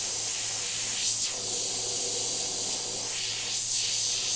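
An airbrush sprays paint onto a soccer ball design, a steady close hiss of air with two brief surges where the spray strengthens.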